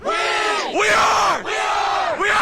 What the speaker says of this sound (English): Let's give us a little bit of cheer, get everyone super excited.